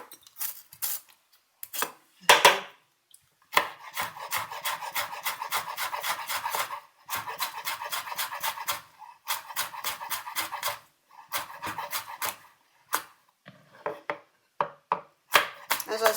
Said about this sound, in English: So I chop that.